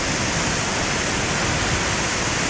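Floodwaters of the Clutha River in central Otago, New Zealand, roar through dam spillways, a loud, steady, dense rush of water that fills the whole moment without any break.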